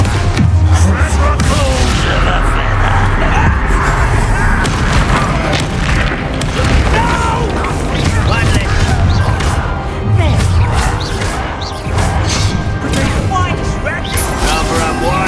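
A Bombarda blast spell in the Hogwarts Legacy video game goes off during a fight with goblins, heavy booming explosions layered with crashes and impacts in dense, loud, continuous combat noise.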